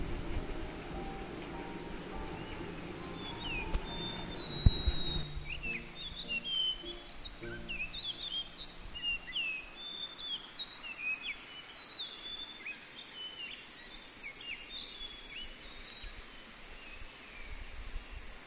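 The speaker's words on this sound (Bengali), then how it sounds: "এই পাহাড়ের আওয়াজ আর এই পাখির ডাক এত ভালো লাগছিল" Birds chirp and twitter in the hills of Dalhousie, Himachal Pradesh, heard from a hotel balcony: many small scattered calls at moderate distance over a soft steady hillside hiss, no talking.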